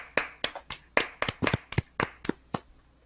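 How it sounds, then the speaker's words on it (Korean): A few hosts on a K League football radio show clap by hand, about a dozen sharp, uneven claps close to the microphone over three seconds, fairly quiet, with no talking. "박수 칩시다."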